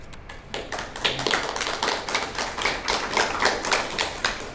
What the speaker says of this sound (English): You don't need to clap, but thanks.